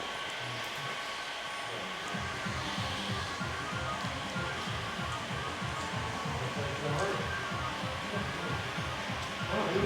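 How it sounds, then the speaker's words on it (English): A heat gun blows steadily while window tint film is applied to a new van, a continuous whooshing hum with a rhythmic mechanical pulse and workshop noise underneath. "heat gun"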